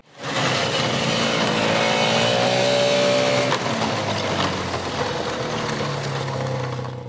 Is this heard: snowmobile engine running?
yes